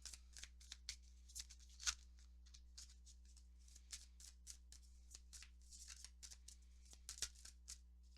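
Oracle cards being shuffled by hand, a quiet run of soft papery riffles and flicks in irregular rhythm over a steady low hum, close and faint, with no talking.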